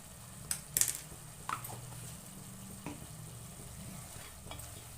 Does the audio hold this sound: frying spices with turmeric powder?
yes